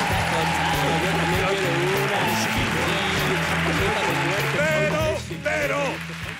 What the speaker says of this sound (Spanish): ahora quiero escuchar ese aplauso